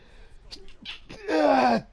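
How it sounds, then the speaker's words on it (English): A voiced sneeze from a Genshin Impact game character, a short breathy build-up of gasps followed by a loud, drawn-out 'achoo' that falls in pitch and cuts off. "I think I might sneeze."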